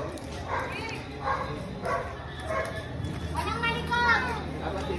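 A dog barks in a repeated series of short woofs at moderate distance, roughly one every half second, over background chatter and voices in an outdoor tourist spot in Gapan.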